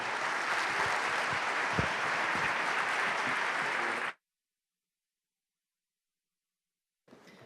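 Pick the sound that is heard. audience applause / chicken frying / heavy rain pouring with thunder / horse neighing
audience applause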